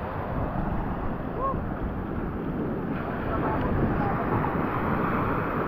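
Strong ocean surf on a sandy beach in the early evening, a steady loud wash of breaking waves with wind buffeting the microphone throughout, continuous and close.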